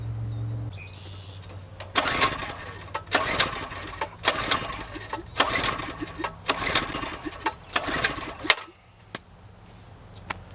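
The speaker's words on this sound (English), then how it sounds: "my generator does not want to start for me" Petrol generator in a garage being pull-started and failing to catch: a series of sharp recoil-cord pulls with brief sputtering turnover, repeated roughly every second or two, close and loud.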